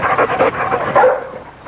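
A search dog in a TV commercial gives a quick run of sharp, loud barks and yips, close and clear with no talking over it.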